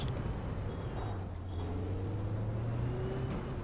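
A Radical SR8 race car in iRacing at Imola runs down the start-finish straight, its engine droning steadily at close range with a rising pitch as it accelerates, with no talk over it.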